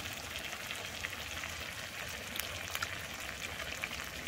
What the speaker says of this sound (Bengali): এখন সুন্দরভাবে কষাবো, একদম একদম।